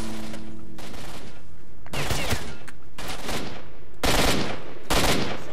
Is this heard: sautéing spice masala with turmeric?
no